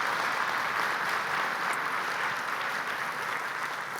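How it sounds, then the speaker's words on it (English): An audience at a university's State of the University address applauds, giving a sustained, even wash of clapping from many hands throughout. "Let's give them a round of applause."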